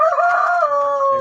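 A rooster crowing in a breeding coop, one loud, close, drawn-out call lasting about a second with a clear, tonal quality.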